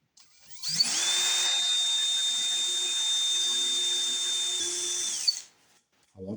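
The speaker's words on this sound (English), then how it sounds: "Drill some pilot holes in the sides of these runners" An electric drill with a countersink bit spins up boring pilot holes in wooden sled runners, running at a steady high whine for about four seconds, then winds down and stops, close and loud.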